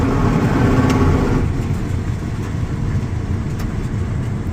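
A combine with a Geringhoff corn head starts up after repair, its engine a steady loud drone that swells at first, then settles into a constant rumbling hum with faint clanks, no talking.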